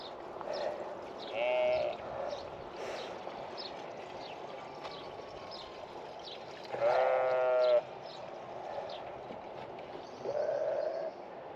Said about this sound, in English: And now a load of sheep have come to join us as well.